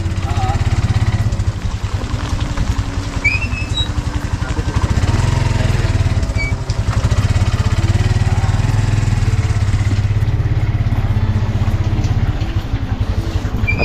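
A motorcycle engine runs steadily and close by for the whole stretch, a loud continuous drone with a slight rise partway through, with no talk over it.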